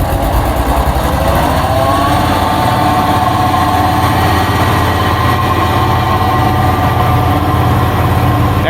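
A Gleaner K combine harvester drives off across a farm, its engine giving a loud, steady rumble and whine throughout.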